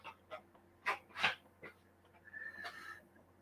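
Horse neighing faintly in a few short, thin whinny bursts, with a longer strained call near the end over a low steady hum.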